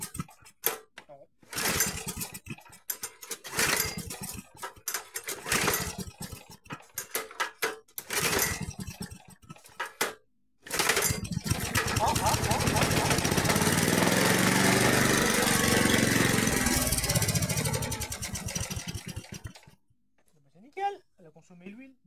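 A Kubota lawn mower engine, being restarted, catches and runs with a steady, loud mid-pitched drone for about nine seconds, then cuts out; people talk over the pull attempts beforehand.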